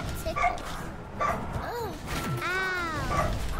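A real dog barks and yips in the background with whining, short pitched calls scattered across the clip while a person talks over a video game and its sounds.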